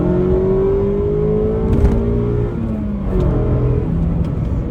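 A 2022 Mazda Miata's four-cylinder engine revs loudly and continuously, with rising and falling pitch sweeps as it accelerates through gears, close and steady with no talking.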